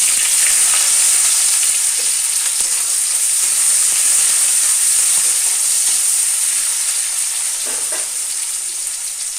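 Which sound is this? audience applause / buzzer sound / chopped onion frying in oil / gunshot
chopped onion frying in oil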